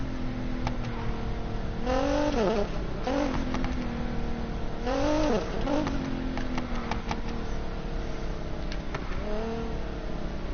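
Nissan GT-R engine in the racing game Need for Speed Payback, revving up and down in repeated rising sweeps with shifts, loud and continuous, no talking.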